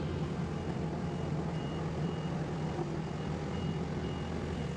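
A skid steer working its blade through dirt while grading terrain at an off-grid homestead, with a steady, loud low engine and machinery rumble running unbroken throughout and no talking.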